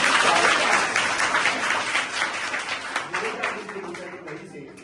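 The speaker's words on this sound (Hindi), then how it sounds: "तालियां भी बजाएं इसके लिए" An audience at a child abuse awareness workshop applauds, a loud, dense burst of clapping that starts strong and gradually tapers off over about five seconds, with some voices mixed in.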